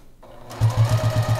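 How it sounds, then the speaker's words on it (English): A sewing machine stitching binding onto a quilt starts up after a brief quiet moment, then runs in a quick, even chugging rhythm of about six stitch beats, close and loud. "fold your binding over, again 1/8 of an inch, and start sewing"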